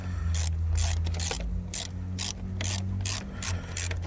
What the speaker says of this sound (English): we're going to be using a 10mm socket to tie this down